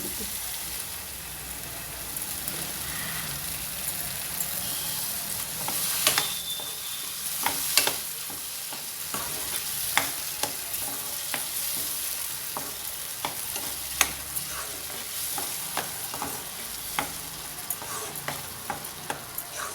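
Tomato puree sautéing in a pan for chana masala, a steady low sizzle with regular clicks and scrapes of a spoon stirring, close and unaccompanied by talk.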